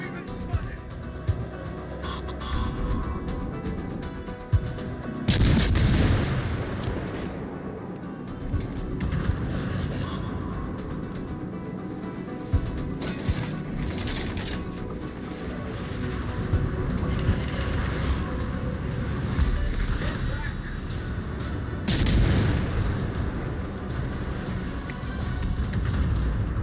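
Naval guns and artillery fire in a warship video game, with booming bursts over a constant rumbling game soundscape and faint voices now and then.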